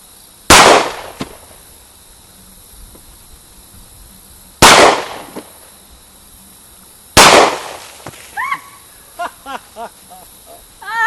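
Three sharp, loud rifle shots from an FN-S fired at soda cans outdoors, spaced a few seconds apart, each followed by a brief echo; a voice speaks briefly after the last shot.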